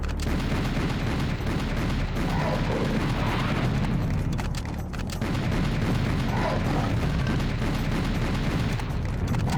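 Shooting at a green man who fires green orbs in a video game, heard as a loud, dense barrage of gunfire and blasts running nonstop, with no break or quiet gap.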